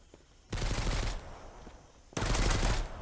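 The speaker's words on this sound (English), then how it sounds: "What's he even shooting at?" Gunfire in the survival video game Mist Survival: two loud, close bursts of rapid automatic fire about a second long each, separated by a short quiet gap.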